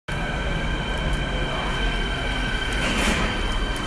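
A metro train in China rumbles steadily close by, a low roar with a faint whine and squeal building toward the end.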